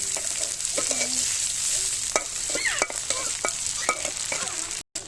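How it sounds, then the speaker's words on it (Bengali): Mustard oil sizzles in a wok (karai) on a traditional clay stove, tempering for beef kala bhuna. A steady crackle plays close by, broken by sharp stirring clicks and scrapes, with no talking. "কালাভুনার বাগারের জন্য আমি কড়াইয়ে সরিষার তেল দিয়ে দিচ্ছি"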